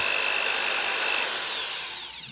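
A Makita 9mm belt filing sander runs steadily with a high whine, then spins down, its pitch sliding lower over the last second.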